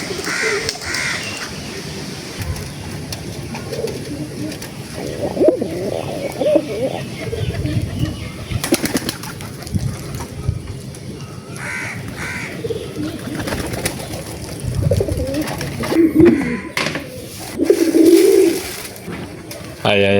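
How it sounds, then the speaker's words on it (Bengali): Pigeons coo and flap around a flowering plant outdoors, mixed with crow caws and other bird calls, while a voice speaks at times. "ওই সামনে ফুল গাছ দেখতেছেন, সেখানে কবুতরগুলো সব গিয়ে বসে থাকে"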